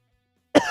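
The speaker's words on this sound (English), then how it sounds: "Celebratory cough." After a stretch of silence, one sharp close cough bursts out near the end and trails off briefly.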